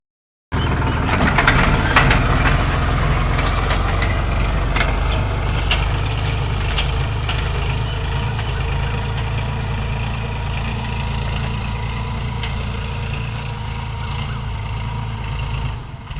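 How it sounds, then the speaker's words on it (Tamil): A tractor engine works a wet farm field, plowing deep into damp soil, a loud, steady low diesel rumble with knocking texture that starts abruptly and holds close and continuous throughout. "நம்ம வயலுக்கு உழுகிறதுக்கு ட்ரக்கு வந்துருச்சு பாருங்கள்"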